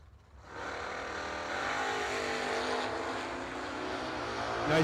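A drag racing car launches hard down the right lane, its engine roaring loud and steady with a sharp swell at the very end; no talk over it.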